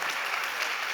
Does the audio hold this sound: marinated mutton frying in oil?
no